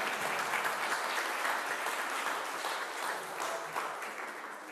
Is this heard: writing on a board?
no